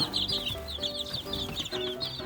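Young chicks only days out of the egg chirp on a farm, a close flock of high peeping calls repeating in quick overlapping bursts over low background noise.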